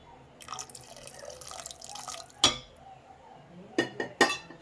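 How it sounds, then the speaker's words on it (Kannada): Water is poured into a pan of chana masala, a soft, splashy, liquid stream followed by a few sharp metallic clinks of a utensil against the pot. "ನಾನಿಲ್ಲಿ ಒಂದು ಸ್ವಲ್ಪ ನೀರನ್ನ ಆ್ಯಡ್ ಮಾಡ್ಕೋತೀನಿ."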